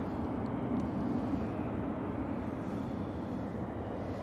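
Ryanair airliner departing Manchester Airport for Cologne, a steady broad jet roar held at an even level throughout, moderately distant with no talk over it.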